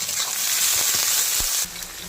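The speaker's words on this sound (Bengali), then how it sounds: "পেঁয়াজগুলি এবার ভেজে নেবো" Loud, steady sizzling of something frying in hot oil, with a few soft stirring knocks; the hiss drops sharply near the end.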